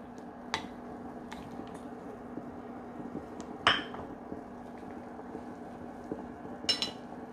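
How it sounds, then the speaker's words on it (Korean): Tofu going into a pot of simmering doenjang stew, heard as a few soft splashes and light clinks of a pot and utensil against a quiet kitchen background. "두부 이렇게 넣어주고요"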